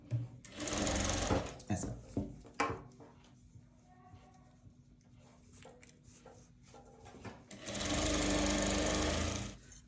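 A sewing machine stitches the edge of blouse fabric in two loud, fast bursts, and someone talks quietly in the pause between them.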